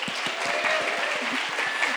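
At a poetry event, an audience answers with a steady run of rapid, evenly spaced finger clicks, crisp and fairly close, over a soft bed of scattered clapping and murmur.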